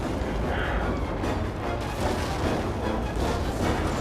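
Explosions rumble through a collapsing space station in Star Trek: The Video Game, a dense, loud, continuous roar of blasts and debris with characters' voices mixed in.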